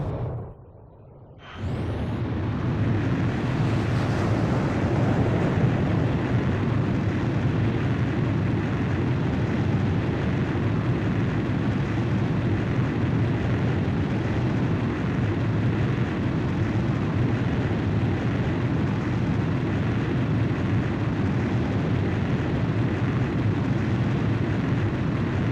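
A fighter jet on an aircraft carrier catapult in Ace Combat 5 roars into a loud, steady engine blast that holds for the whole stretch after a brief quieter moment at the start.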